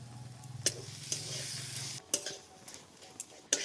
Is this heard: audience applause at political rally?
no